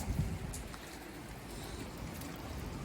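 Rain mixed with snow falling outside during winter, a steady soft patter of drops on surfaces, faint and continuous with no voices.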